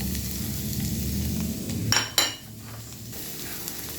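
Half an onion, small shallots and green chillies drop into hot coconut oil, setting off a loud, dense sizzle that flares sharply for a moment, then settles to a softer steady frying hiss.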